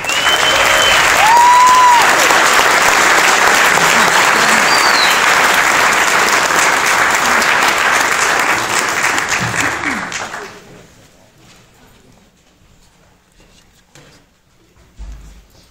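Loud, dense audience applause fills a big band concert hall for around ten seconds, then drops off abruptly into quiet room sound with a few scattered claps.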